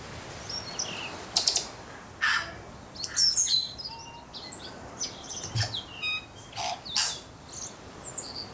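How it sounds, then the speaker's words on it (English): A native New Zealand tui sings in forest, with a varied run of bright chirps, clicks and ringing whistled notes that come in scattered bursts at moderate distance over quiet background. "That's a tui, and the tui is a native New Zealand bird. It's got a beautiful range of songs."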